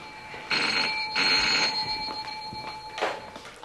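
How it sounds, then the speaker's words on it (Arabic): A telephone rings at home with steady electronic tones, sounding loud and close in short repeated bursts while a few faint noises sit underneath. "حسين، حسين تليفون علشانك يا حسين."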